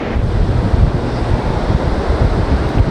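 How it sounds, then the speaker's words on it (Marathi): Rough sea waves on Nagaon beach: a continuous rumbling wash of surf mixed with wind buffeting the microphone, loud and steady with no voices. "समुद्र पूर्ण खवळलेला आहे"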